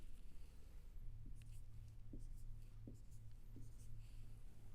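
Numbers written down by hand on paper: a few soft, short scratching strokes spaced about a second apart, faint and close, over a low background hum.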